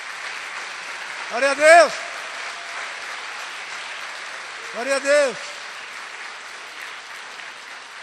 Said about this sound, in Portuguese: Você pode aplaudir as mulheres?